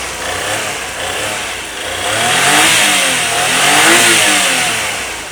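A Suzuki K6A 660cc turbo engine in a DA64W van revs up and down close by, rising twice to a louder whine over a steady idle, with a smooth turbo hiss above the engine note.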